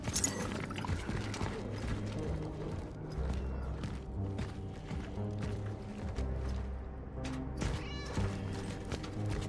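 A cat meows repeatedly in the video game Cronos: The New Dawn, short mewing calls over a dense, continuous game soundscape with low rumbling ambience.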